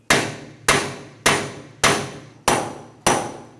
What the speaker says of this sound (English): Just tap that as far back as you can. And then we're just going to tap this from the outside.